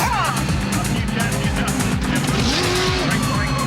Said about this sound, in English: Here comes Bill's car now.